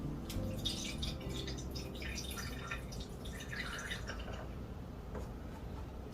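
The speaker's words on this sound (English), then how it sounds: "So the water is going to go in this little hole right here." Water pours into the small fill hole of a Hy-Impact Therma Mist tank, a steady close trickle and splash that runs unbroken throughout.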